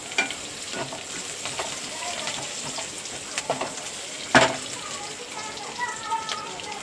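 Onions fry in a pan until golden, giving a constant crackling sizzle close by, with scattered light taps and one sharper clatter of a spoon against the pan partway through.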